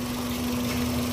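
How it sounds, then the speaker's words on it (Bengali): A 2012 Toyota Probox GL car engine idling, a steady, smooth low hum with a constant tone and no variation, heard close and alone. "একবারে স্মুথ, একবারে স্মুথ ইঞ্জিনের সাউন্ড।"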